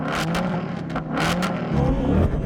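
A V8 Ford Mustang engine revs loudly and steadily with throaty rumble and repeated surges in pitch, close by, with no voices.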